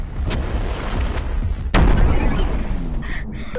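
A loud RPG explosion in the VR game Animal Company, a sudden broadband boom that stays loud and noisy for the rest of the moment after a stretch of game noise.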